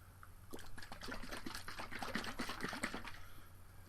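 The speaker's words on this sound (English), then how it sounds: "I gotta shake it up first. Let's shake it up." A bottle of clay detox drink is shaken hard, liquid sloshing and clattering in quick rhythmic bursts for a few seconds, close and fairly loud.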